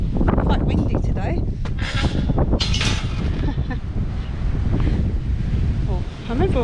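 Strong wind rumbles across the microphone during a countryside walk around Blackawton village, continuous and loud, with a person talking over it throughout.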